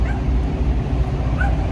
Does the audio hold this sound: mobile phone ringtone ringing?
no